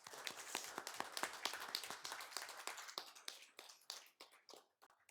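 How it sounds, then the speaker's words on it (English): Applause from a modest audience at a school board meeting, distinct individual claps in a quick patter that thins out and fades over the last couple of seconds. "Can we give them a round of applause, please?"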